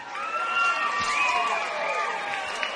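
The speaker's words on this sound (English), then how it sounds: "the crowd works itself into a frenzy, louder and louder" Crowd in a wrestling video game roars and cheers in a dense, sustained swell, with rising whoops layered over the noise.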